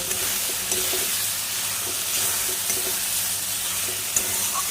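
Fried potatoes and spice paste sauté in a pan for Katla fish kalia, giving a loud, steady sizzle with soft scraping strokes of a spatula; nobody talks.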